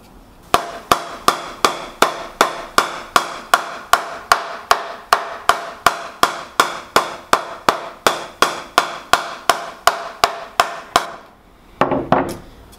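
A cricket bat is given a ping test, struck with a mallet about thirty times at an even, brisk rhythm, each sharp woody knock close and clear, ending with a brief muffled rustle.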